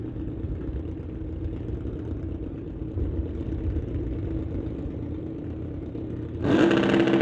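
Two Super Gas drag racing motorcycles idle with a steady mid-pitched engine drone, then launch off the line near the end in a sudden loud, revving surge.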